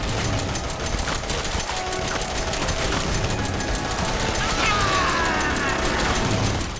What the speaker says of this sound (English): Shoot that eyeball monster.